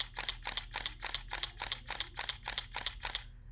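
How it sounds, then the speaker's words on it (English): A single-lens reflex camera fires its shutter in continuous shooting mode, eleven crisp mechanical clicks in a steady rapid rhythm over about three seconds, close and clear over a faint hum. "Every click was a picture."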